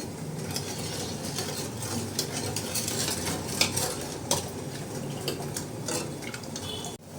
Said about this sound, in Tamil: சர்க்கரையை நல்லா கலந்து விட்டுடலாம்.